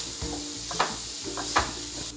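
Spiced cauliflower and onion mixture being stirred in a pan with a spoon or spatula, a steady scraping shuffle over soft sizzling, with two sharper clinks of utensil against the pan.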